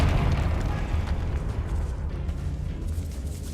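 A Confringo blasting spell going off in a Harry Potter video game inside a decayed catacomb: a loud, rumbling explosion with a sustained roaring burst that slowly tapers off, no speech.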